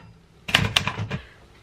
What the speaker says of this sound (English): bought me a vintage typewriter, like an authentic vintage typewriter, and she intentionally bought it in this mustard yellow